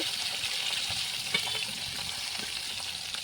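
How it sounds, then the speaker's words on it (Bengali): Pangas and tengra fish frying in hot oil, a steady dense sizzle with occasional pops and spatters, close and continuous throughout. "এইভাবে উল্টে এক এক করে মাছগুলোকে সুন্দর করে লাল লাল করে ভেজে নেব"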